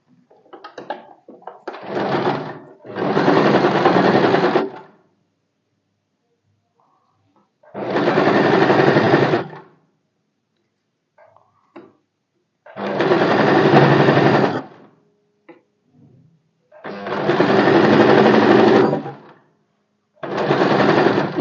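Sewing machine stitching the folded lining of a blouse, running in five separate bursts of steady whirring chatter, each a couple of seconds long, with quiet pauses and small handling clicks between them.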